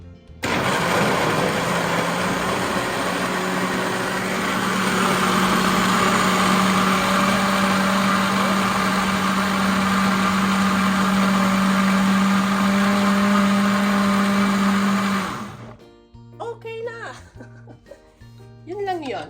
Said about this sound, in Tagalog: Blender natin ito hanggang sa smooth creamy siya.